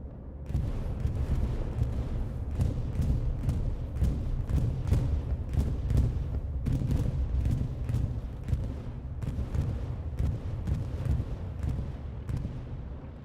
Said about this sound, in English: Big bombing run